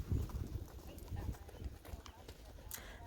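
A saddled horse lopes in circles on a lunge line during early training, its hoofbeats thudding in a steady rolling rhythm close by, with a person talking over it.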